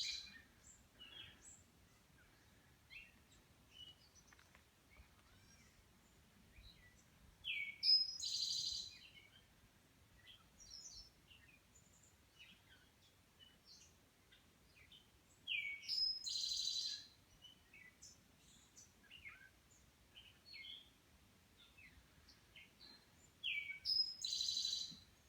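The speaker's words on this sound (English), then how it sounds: "Can you hear this bird?" A songbird sings in the quiet woods along the Appalachian Trail, with clear bursts of whistled phrases repeating every several seconds and soft background hush between them.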